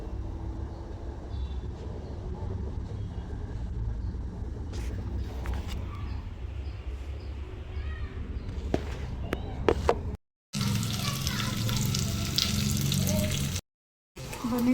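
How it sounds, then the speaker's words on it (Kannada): Spices tempering in hot oil for mutton curry, a continuous frying sizzle with scattered crackles that grows louder and brighter partway through, cut by two brief silent gaps. "ಮಟನ್ಗೆ ಇದು ಒಗ್ಗರಣೆ ಹಾಕ್ತಾಯಿದ್ದೀನಿ"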